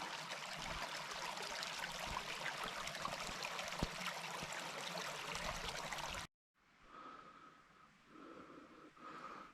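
Creek water flowing steadily near the ghost town of Buncom, a dense continuous rush that cuts off abruptly, followed by a quieter trickle with faint outdoor ambience.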